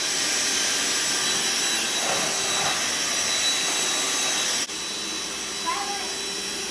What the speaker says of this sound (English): we finished vacuuming